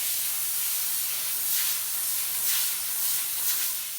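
Compressed air hisses steadily from a spray nozzle as dirt is blown out of a filter on a John Deere 5075E tractor during 250-hour maintenance, a continuous close hiss with a few short surges of pressure.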